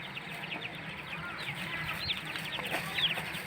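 A rooster and a hen in a backyard give soft, scattered clucks at moderate distance, with low background noise and no talking.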